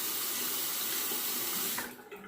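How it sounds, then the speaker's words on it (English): A steady, loud rush of water runs from a tap as a Gillette Parat safety razor is wetted under it, close by, with the flow easing off near the end and no voices. "Let me wet the razor."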